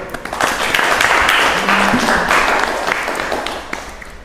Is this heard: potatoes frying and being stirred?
no